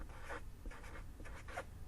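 Numbers are scrawled onto a classroom board in four short, rubbing strokes over a steady room hum, close and quiet, with no voices.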